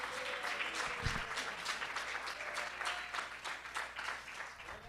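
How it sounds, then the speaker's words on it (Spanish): A church congregation claps loudly and steadily for the Lord, a dense sustained wash of applause lasting throughout with no speech over it. "¿Cuántos le dan fuerte palmas al Señor?"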